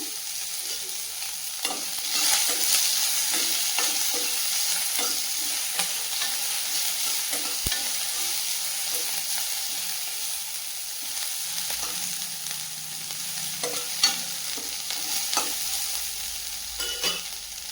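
Onions sauté in a pan for a cabbage poriyal, giving a steady close sizzle broken by frequent scraping strokes of a spatula that run throughout without any voice.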